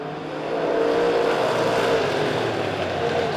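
Street stock race cars roaring around the Springfield Raceway oval during a B-Main, a loud sustained engine drone swelling as the pack passes close by.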